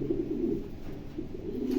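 A racing pigeon coos in low, throaty repeated rolls, close and clear, with a steady murmur of cooing running throughout and no talking.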